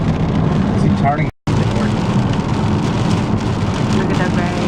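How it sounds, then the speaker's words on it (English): Heavy rain pours steadily during a storm, a loud continuous wash of noise broken by a brief dropout, with a voice speaking over it. "Look at that rain."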